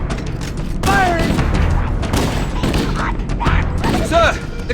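Gunfire during a shipboard firefight in the Halo: Combat Evolved video game, several bursts of shots and booms close up, with chirping alien-like effects and game voices calling out over the shooting.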